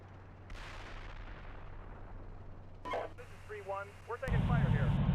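Incoming artillery fire in the Steel Beasts Pro tank simulator: a couple of sharp distant blasts followed by a heavy rumbling impact near the end, with radio-style voices talking over the fire.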